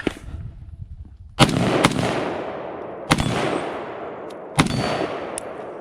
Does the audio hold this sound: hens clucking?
no